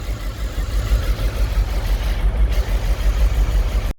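A 2008 Mercedes S63 with 150,000 km holds a steady idle around 1000 RPM, its deep low rumble pulsing evenly and close up, with no voices over it.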